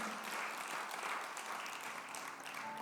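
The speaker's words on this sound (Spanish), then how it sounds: "Démosle un fuerte aplauso al Señor" Church congregation applauding together during a Spanish-language sermon, a steady wash of many hands clapping at moderate distance, fairly soft and continuous with no clear break.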